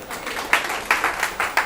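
An audience at a coaching seminar claps, a short burst of applause with a few louder clustered claps in a loose rhythm, moderately near.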